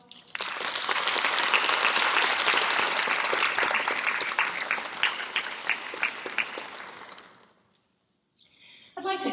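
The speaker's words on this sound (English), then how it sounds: "could you give them a round of applause?" An audience at a nurse pinning ceremony gives a sustained round of dense applause for about seven seconds, then it fades out and goes nearly silent, and a brief new sound begins at the very end.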